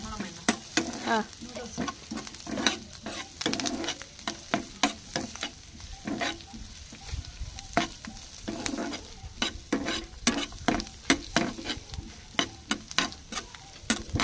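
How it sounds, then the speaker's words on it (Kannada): Vegetables fry in oil while being stirred, with a steady close sizzle and regular scraping strokes of a utensil against the pan. A brief voice is heard once. "ಇಲ್ಲೆಲ್ಲ ತರಕಾರಿ ನಮ್ದು ಲೈಟಾಗಿ ಇದು ಫ್ರೈ ಆಗತ್ತು ರೀ"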